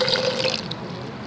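A short, close, steady stream of water is poured into a blender jug holding chillies, splashing loudly for about a second before tapering off.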